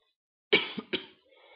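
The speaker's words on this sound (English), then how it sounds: "Still coughing" Two sharp coughs in quick succession from a person, close and fairly loud, followed by quiet low background hum.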